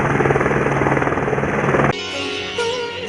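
A helicopter near the Chaurasi temple in Bharmour on the Manimahesh pilgrimage route gives a loud, steady rotor and engine drone. It cuts off abruptly partway through and leaves a quieter ambient background.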